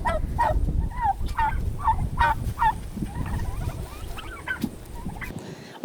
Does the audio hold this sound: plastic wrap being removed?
no